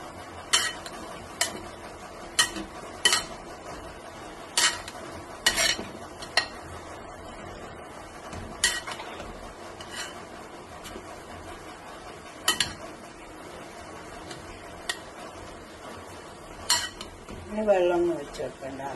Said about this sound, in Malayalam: അടിനെ ചേർത്തിട്ട് നമുക്ക് നന്നായി ഇളക്കി ചേർത്തെടുക്കാം.